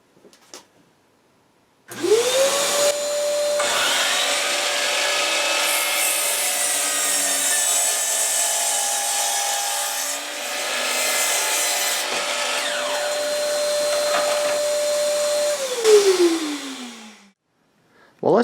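A power saw spins up with a rising whine and cuts through wood, keeping a steady, loud motor tone for about thirteen seconds, then winds down with a falling pitch before silence.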